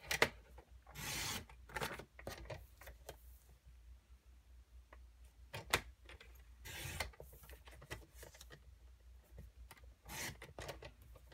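Stampin' Up Tranquil Tide cardstock is cut into small pieces on a paper trimmer, giving soft, quick rasping slides and clicks in short bursts, quiet and close, with no talking.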